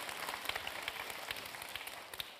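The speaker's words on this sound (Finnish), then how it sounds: "Annetaan 25-vuotiaalle myöskin aplodit" Audience applause at a Finnish celebration marking 75 years of the UN Universal Declaration of Human Rights, a quiet, dense patter of clapping hands heard from a distance and sustained evenly throughout.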